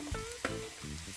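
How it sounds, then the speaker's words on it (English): Sliced onions frying in cooking oil in a frying pan give a steady, close sizzle, with a couple of brief clatters near the start. "In a frying pan, I'm going to add cooking oil, 2 medium-sized onions sliced,"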